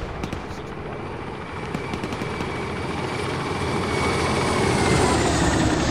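An aircraft roars overhead in the military video game Arma, a steady broadband drone with a heavy rotor-like churn that grows gradually louder as it approaches.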